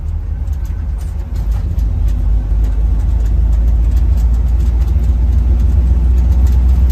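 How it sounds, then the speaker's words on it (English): Engine of a 1969 Jeep Jeepster running steadily in third gear high range while driving, a loud continuous low rumble with road noise heard from inside the cab. "that's third gear we're in right now in high range"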